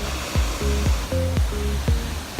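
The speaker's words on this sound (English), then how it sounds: "It's beautiful just to see the natural waterfalls again." Waterfall pours down a mountainside in a New Zealand forest, a broad steady rush of falling water heard up close with gusts of wind and short repeated low thumps over it.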